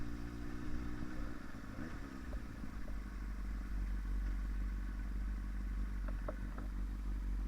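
A motorcycle engine idles steadily in cold weather, its low, even rumble running close by throughout with a few light clatters and thumps over it.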